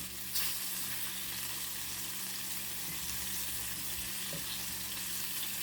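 Shrimp crisping in a hot pan sizzle with a steady, close, dense hiss that lasts throughout, broken by a few faint utensil taps and no talking.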